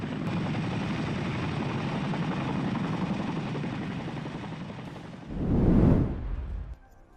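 A large twin-rotor US military Chinook helicopter at a display drones with a heavy, steady throb, then surges louder as it passes close by before the roar drops away.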